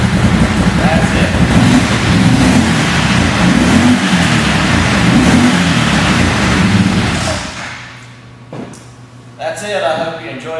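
A UTV 800 engine runs loud and close with a steady revving drone, then cuts off, leaving quieter mechanical clicks and thumps.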